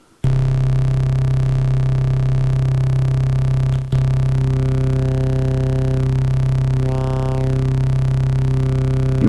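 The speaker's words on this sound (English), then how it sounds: "let's go with the first oscillator being a saw wave, and the second oscillator being like a square wave" Heavy Digitone II synth bass built from a saw and a square oscillator, a loud sustained droning tone with rich harmonics, briefly cut once, then a slowly sweeping filtered upper overtone.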